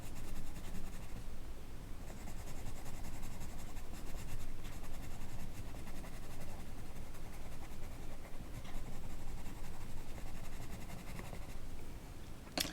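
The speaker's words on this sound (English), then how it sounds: "And then the white pencil, on those bits where I do want really white, just go over those to blend all the colours in together" Colored pencil strokes scratching steadily across paper, a white pencil blending and shading over colours; continuous close, soft scratchy texture throughout, alone with no talking.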